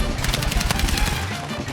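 Rapid automatic gunfire in Battlefield 6, a loud, close burst of repeated shots firing in quick rhythm, with a voice barely present underneath.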